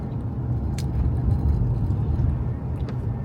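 Steady low engine drone and road rumble from inside a moving car, continuous and fairly loud, with a couple of faint brief clicks.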